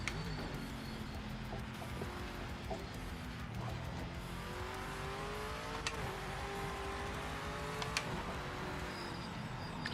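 A Camaro race car laps the Sebring circuit in a racing video game, its engine droning steadily with shifting pitch and occasional tire squeal, loud and continuous throughout.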